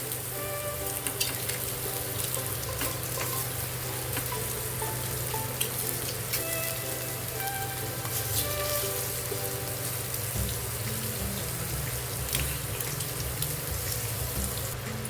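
Boiled eggs frying in oil in a pan for masala egg curry, a steady dense sizzle with a soft crackle that holds evenly throughout, close and with no voices.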